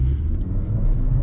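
Suzuki Vitara 1.4 Turbo Allgrip with a six-speed manual gearbox, in sport mode at full throttle: a deep, steady engine rumble heard from inside the cabin, loud and continuous for a moment.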